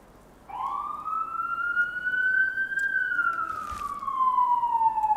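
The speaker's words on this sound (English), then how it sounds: "Pardon the sirens, I'm not wanted." Sirens from a fire station across the street wail in a long, loud sweeping tone that rises then slowly falls, steady and continuous for several seconds.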